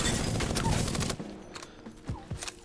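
Prowler burst SMG from the Apex Legends video game firing in full auto, a dense rapid stream of loud shots for about a second, then a few scattered separate shots and clanks trailing off.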